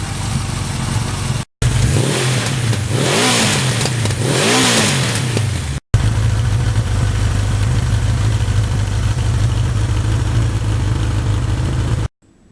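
A 1982 Suzuki GS1100E motorcycle engine, freshly reassembled after a valve adjustment, blips through a few loud revs early on and then settles into a steady, close, rumbling idle.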